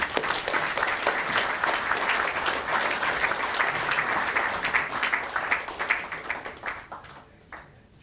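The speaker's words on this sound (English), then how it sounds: "Please welcome with a huge round of applause the High Commissioner of Bangladesh to the podium for his address." Applause from a gala dinner audience greeting the High Commissioner of Bangladesh as he comes to the podium, a dense, steady wash of many hands clapping that holds for several seconds and thins out near the end.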